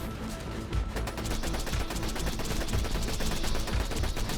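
Rapid gunfire from a weapon in Borderlands 2, fired by Axton the Commando at Digistruct Peak, plays as a dense, loud, continuous stream of shots that lasts several seconds.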